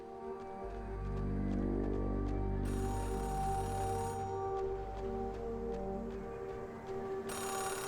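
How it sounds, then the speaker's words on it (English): A payphone rings in a repeating electronic trill pattern in the video game Oxenfree II: Lost Signals, heard steadily over a low ambient music drone with no talking. "or that is a phone ringing, somewhere."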